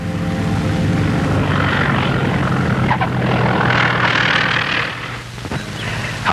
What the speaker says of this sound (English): Harry Bliss lands with runway to spare.